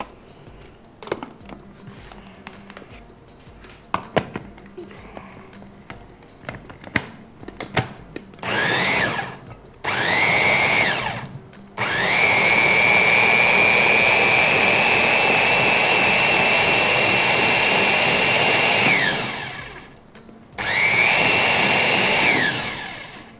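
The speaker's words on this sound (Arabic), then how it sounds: "ونضرب العصير" An electric blender whirs loudly as it blends juice, starting in short bursts and then running in a long sustained drone before cutting off and restarting briefly.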